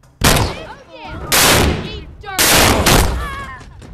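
Three heavy bursts of close rifle fire crack out in The Walking Dead: Saints & Sinners, played in VR. Each barrage is loud and dense, with wavering tonal ringing and echoes between the shots.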